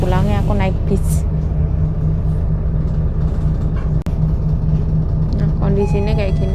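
Steady loud engine rumble and road drone inside an intercity bus travelling in Taiwan, constant throughout, with a voice speaking over it at the start and end.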